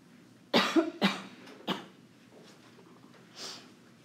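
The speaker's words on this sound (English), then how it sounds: "By then, hopefully, I'll stop coughing" A person coughs several times in a quick burst, a few sharp hacking coughs close to the microphone, then a softer breath or throat sound after a pause, in a quiet room.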